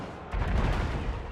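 A trebuchet launching rocks during a Total War: Warhammer battle, a single deep, heavy thump followed by a sustained low rumble.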